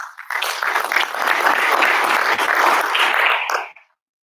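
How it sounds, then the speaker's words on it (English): A conference audience at OSOS Thrive 2025 applauds the leaders and AI team, a dense burst of clapping that swells quickly, holds steady and loud for about three seconds, then fades out abruptly. "please, a round of applause for the leaders and the AI team"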